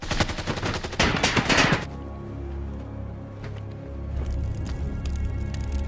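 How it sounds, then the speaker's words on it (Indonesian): A burst of rapid gunfire in a film shootout between cartel gunmen and a former marine rattles out for about two seconds, then drops to a low ambient hum with faint scattered noises. "Mauricio dan anak buahnya yang tersisa mencoba menembak Jim"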